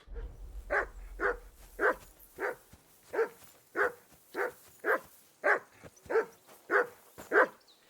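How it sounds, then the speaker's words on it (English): A dog barks repeatedly in Kingdom Come: Deliverance II, about a dozen loud, evenly spaced barks over a low rumble at the start. "Call off that damn dog before he wolfs down the last of our mates."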